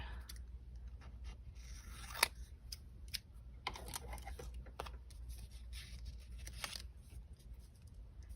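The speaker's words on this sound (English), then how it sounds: "So for this one, I do just need to kind of cut off this extra edge here." Scissors snip off the extra edge of a paper tag for a peekaboo tag, giving a few sharp, quiet cuts and rustles close by against a soft, steady background hum.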